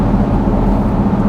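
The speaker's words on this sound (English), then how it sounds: "you can still hear a little grumble to the truck" A 2025 Jeep Gladiator fitted with a cold air intake cruises along, its engine giving a steady low grumble that fills the cabin continuously and loudly, with no voices over it.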